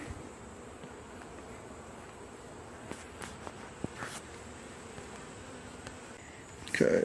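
Honey bees buzzing around an opened hive during a midsummer inspection, a steady close drone with a few faint knocks and rustles, ending in a louder brief disturbance.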